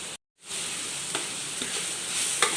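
Vegetable fried rice with spring onion, salt and white pepper is stir-fried in a pan: after a brief silent gap, a steady bright sizzle runs on with light spatula scrapes and taps.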